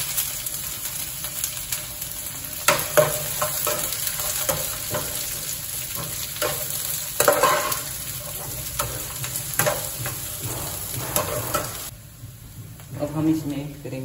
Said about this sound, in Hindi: अच्छी तरीके से प्याज को भून लेने के बाद हम इसमें डालेंगे लहसुन जो कि मैंने काट रखा था